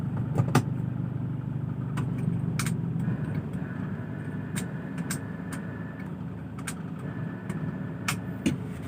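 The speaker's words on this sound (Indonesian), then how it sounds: "Suara diesel mantap banget ya" A 2004 Toyota Kijang Innova G diesel engine idles, rumbling steadily with a low, even drone, broken by occasional sharp clicks and knocks from nearby; nobody speaks.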